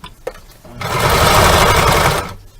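Sewing machine stitching a cornhole bag, a single loud close burst of rapid mechanical stitching lasting about a second and a half, with faint clicks before and after.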